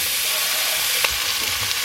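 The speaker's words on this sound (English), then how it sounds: "I'm going to add in some cherry tomatoes, just some bacon and some red onion." Cherry tomatoes, bacon and red onion sizzle in a pan inside a caravan, a steady bright frying hiss with a couple of soft stirring knocks near the middle. No voices.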